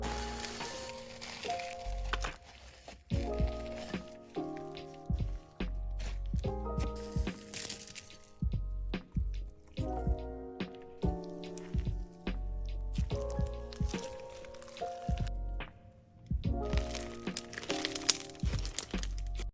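Crunchy slime mixed with Rice Krispies being squished and pressed, giving dense crackling and popping squelches in close, steady bursts with brief pauses.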